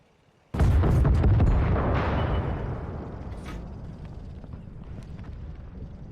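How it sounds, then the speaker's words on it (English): A heavy tank explosion in World of Tanks, on the MS1, bursts suddenly and loudly with a deep boom, then rolls into a long, slowly fading rumble that lingers for several seconds. "let's have some more explosions that Michael Bay would approve of"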